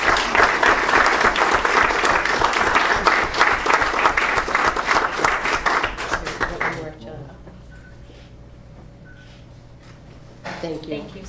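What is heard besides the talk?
audience applause at a council meeting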